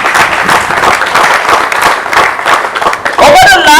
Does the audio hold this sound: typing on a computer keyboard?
no